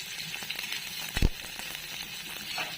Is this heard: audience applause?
no